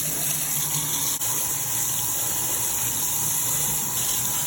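Collard greens are rinsed under a tap, giving a continuous gushing rush of running water, close and loud, steady from start to finish with no talking.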